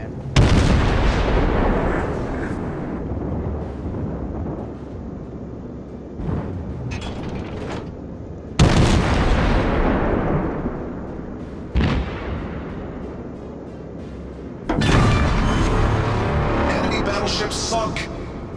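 Ship guns fire in the naval combat game World of Warships. Heavy booming salvos roll out and decay over several seconds, about four large blasts in all, with speech in between.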